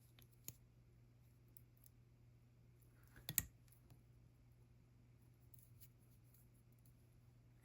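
A single sharp snip of jewelry wire being cut off at a rolled loop, a faint click near the start and a louder cut midway over a quiet, humming background.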